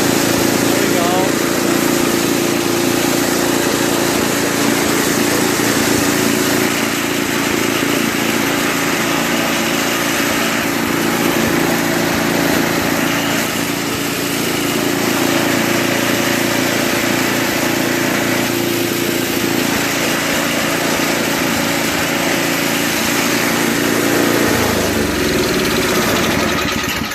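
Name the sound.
Toro 521 snowblower Tecumseh engine running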